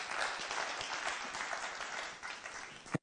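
Church congregation clapping during a Sunday morning service, sustained even applause throughout at moderate distance, ending abruptly.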